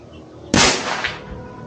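An airgun fires a slug through an MK barrel, a single sharp close crack followed by a short fading echo.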